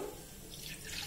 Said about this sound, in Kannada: ಇವಾಗ ಸ್ವಲ್ಪ ನೀರು ಬೇಕು ಇದಕ್ಕೆ